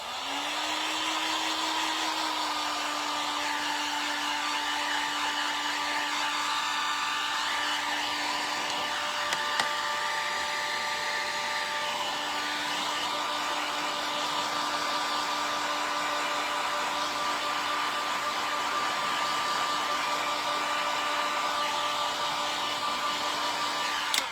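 A heat gun blows hot air over rustic Christmas decor, a steady close whirring roar with a faint motor whine that runs unbroken throughout, its low hum briefly fading midway before returning, with no one talking.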